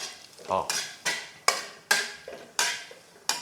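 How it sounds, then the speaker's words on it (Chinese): Dried shrimp stir-fried slowly in a little oil over the lowest flame, with about six distinct, evenly spaced scraping strokes, each followed by a brief hiss, close and clear. "记得用最小火来这样慢慢炒"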